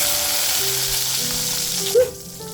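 Small shallots, a handful, sizzle steadily in hot oil already used for frying, a close, continuous crackle with a brief bright pop near the end and no talking.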